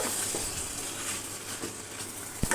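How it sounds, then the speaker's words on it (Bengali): Sweet pumpkin and egg curry being stirred in a pan, a soft continuous sizzle with faint scraping strokes and a sharp knock near the end. "এখন আমি ভালো করে এটা মিশিয়ে নিব।"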